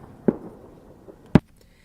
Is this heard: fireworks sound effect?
yes